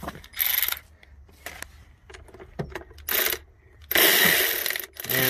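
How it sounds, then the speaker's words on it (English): A ratchet works on a roughly 13 mm nut on the 5.7-litre engine of a 2000 Chevrolet Express during fuel injection work: short bursts of close, crisp clicking separated by quiet pauses and a few metallic taps. "So we're gonna get it on a ratchet here."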